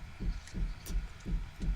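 Repeated banging from someone working on a house's siding, five evenly spaced dull low thuds about every 0.35 seconds, muffled and distant in the background with no talk.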